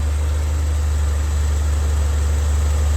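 A car engine idles steadily at about 800 RPM during an alternator check, a loud, close, even low rumble with constant vibration and no voices.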